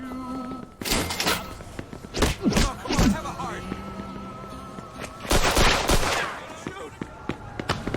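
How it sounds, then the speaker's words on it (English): Gunfire in the Mafia II video game: several sharp, loud shots burst out in two clusters, with game voices talking around them. "Got some nut job here shooting a gun."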